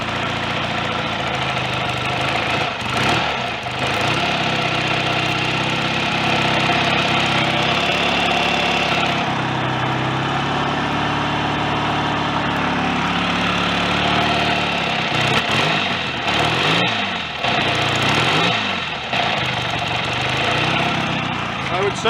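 A BSA A65 motorcycle engine idles steadily at roughly 1000 to 1500 RPM, a loud, continuous mechanical drone with small shifts in tone as the choke slide is adjusted.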